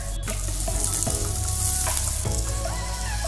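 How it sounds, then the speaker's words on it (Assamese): Potatoes fry in oil with turmeric, cumin, coriander and chilli powder, a loud dense sizzle close up with brief stirring and scraping and no talking. "আলুখিনি ৰঙচুৱাকৈ ভাজি তাত হালধি, জিৰা, ধনিয়া, জলকীয়াৰ গুড়া দি ভালকৈ লৰাই দিলোঁ।"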